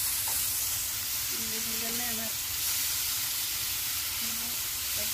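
Tibs meat frying in a pan gives a steady, close sizzle and hiss throughout, with a faint voice murmuring briefly partway through.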